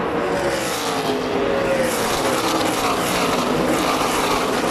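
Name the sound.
NASCAR race cars racing side by side at California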